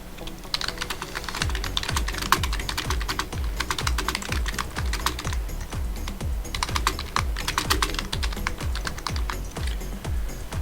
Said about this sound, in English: So I'm going to quickly type that out.